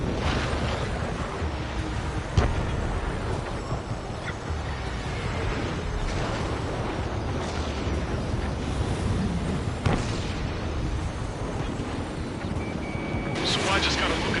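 Missile hits and explosions rumble in the jet combat game Ace Combat 7, a dense continuous roar with a few sharper bursts layered over engine noise and music.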